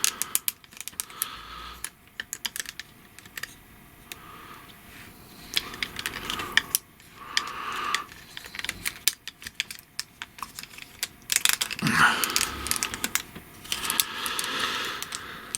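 A Fanstoys Outrider (Trailbreaker) Transformers plastic figure being folded during transformation, giving rapid irregular clicks and ratcheting snaps of plastic joints close up, in bursts throughout with short pauses.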